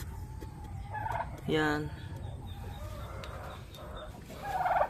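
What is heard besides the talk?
turkey gobbling on a farm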